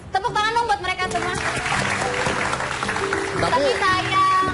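Applause for performers on an entertainment show rises as a dense burst of clapping in the middle, while voices talk over it at the start and end.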